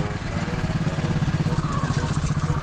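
A motorcycle engine rumbles nearby with a fast, pulsing low throb that stays loud and steady throughout.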